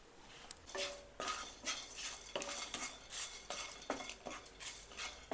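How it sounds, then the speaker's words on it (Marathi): Poppy seeds are dry roasted in a pan without oil, and a metal spoon scrapes and clinks against the pan in quick repeated strokes. The sound is faint and close, with light rustling from the seeds. "ही आपली खसखस ही घ्यायची भाजून यामध्ये तेल नाही टाकलं आहे"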